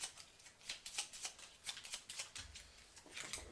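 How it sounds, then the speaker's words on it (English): Board game cards being shuffled by hand during a Dungeon Lords session, a quiet run of soft riffling flicks and brushes repeating through the whole stretch, with no talk over it. "I was shuffling my red ones."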